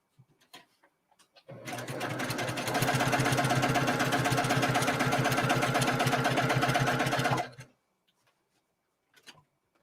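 A sewing machine stitches binding onto a quilt in one steady, fast, continuous run of about six seconds, close and fairly loud, with quiet handling sounds before and after.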